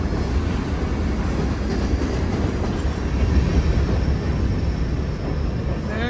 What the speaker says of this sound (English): big train shows up